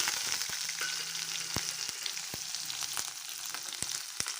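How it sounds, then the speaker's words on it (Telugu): Chopped onions fry in ghee and oil for restaurant-style dal khichdi, giving a steady, moderately quiet sizzle broken by occasional sharp spatter pops. "ఉల్లిగడ్డలు వేయించుకుందామండి"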